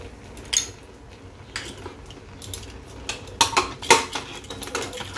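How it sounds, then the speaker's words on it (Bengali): A pressure cooker lid is fitted and locked over boiling colocasia greens with chickpeas, producing several close metallic clanks and scrapes, clustered near the end, against a quiet kitchen background. "এবার আমি প্রেসারের ঢাকনাটা আটকে দিচ্ছি।"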